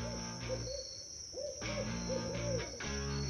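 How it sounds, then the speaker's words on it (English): Owl hooting close to a hunter's tree stand during an October bowhunt in Tennessee, a series of low, rounded hoots repeating in a loose rhythm, fairly loud and near, with no talk over it. "Got an owl right by me."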